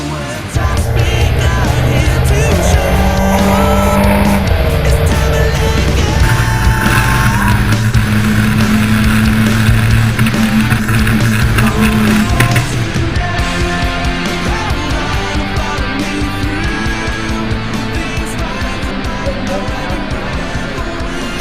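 GT Cup Championship race cars roar past at Oulton Park, a loud dense engine drone that holds steady and then thins slightly as the pack moves on.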